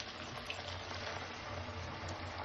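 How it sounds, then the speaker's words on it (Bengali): Blended spice paste with ginger and garlic frying in oil, a steady close sizzling hiss that holds evenly throughout with no talking. "এটা দিয়ে এটাকে একটু তেলে ভাজবো"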